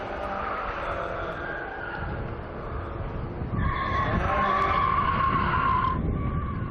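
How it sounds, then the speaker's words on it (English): Historic rally car sliding under handbrake at a classic racing event, tyres scrubbing over a steady engine drone, noise swelling louder midway as the car slides, no voices. "Bit of handbrake action and lots of right foot."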